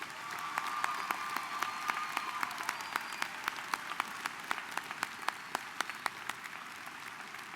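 Sustained applause from a commencement audience for honors graduates, a steady dense patter with sharper individual claps standing out, continuing through the whole stretch at a moderate distance.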